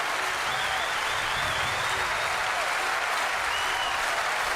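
Audience applause at a tribute concert, honoring the accompanying pianist: steady, dense clapping from a large crowd sustained throughout, close and full, with no talking.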